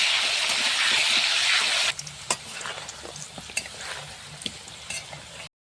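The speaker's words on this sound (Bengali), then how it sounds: "আলুটা লাল করার জন্য কড়াই তেল দিয়ে দিব, আলুগুলো ছেড়ে দিব" Potato pieces hit hot oil in a wok (kadai) with a loud, hissing sizzle that cuts off abruptly, giving way to quieter bubbling and scattered clinks of stirring.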